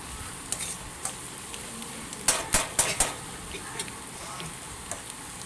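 Soaked poha being stirred in a pan with a spatula, producing a cluster of sharp metallic scrapes and clinks mid-clip over a quiet background hiss.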